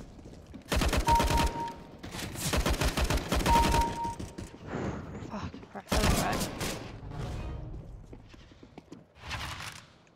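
In CS:GO, a teammate fires at the player in loud, close bursts of rapid gunfire separated by brief pauses, with faint noise trailing between volleys.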